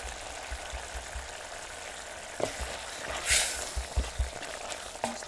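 Tomatoes sizzle faintly in a pan on a village kitchen stove, with a soft steady crackle broken by a few sharper pops and a brief louder hiss midway.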